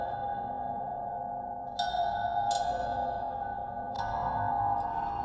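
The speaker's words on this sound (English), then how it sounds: "We've got the flicking of a piece of metal," A flicked piece of metal processed with effects: a sustained, shimmering metallic drone, with a few sharp bright flicks ringing out and decaying over a quiet, washy background.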